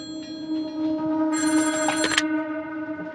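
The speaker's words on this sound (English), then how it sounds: "she had gotten a phone call from Jackie" A telephone rings with a bright electronic trill, one sustained burst of ringing standing out loud and clear over a steady tonal hum before cutting off.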